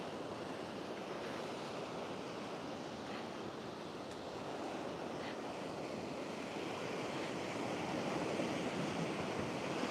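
Ocean surf breaking steadily on a beach at Alcalá, driven by a northwest wind, a continuous broadband roar with rolling swells and wind rush across the microphone, no voices.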